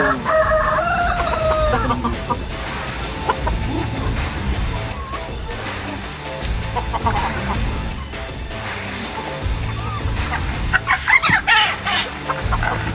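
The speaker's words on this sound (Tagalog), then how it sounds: "Pahirapan ako ng manok na to." Chickens cluck loudly and repeatedly, with a rooster crowing partway through and occasional clattering and voices mixed in.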